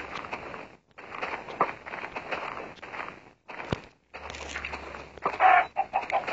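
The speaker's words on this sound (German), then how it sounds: "Hier mal eine kleine Hühnerfarm." Blocky chickens in a small chicken farm in Minecraft Pocket Edition cluck in repeated short bursts with brief pauses, close and clear, with no voices.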